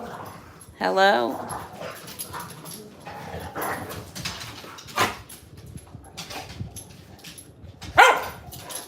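Small dogs, one a Westie-type terrier, play together indoors, letting out a sharp yelp near the start and another near the end with scattered whimpers and scuffling between, while a person speaks briefly.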